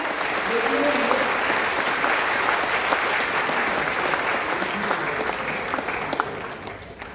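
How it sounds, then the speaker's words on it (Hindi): Steady, full audience applause at a Hindi comedy poetry gathering (kavi sammelan) in Jamshedpur, dense clapping sustained throughout, with faint voices underneath. "एक बार जोरदार तालियां बजा दीजिए।"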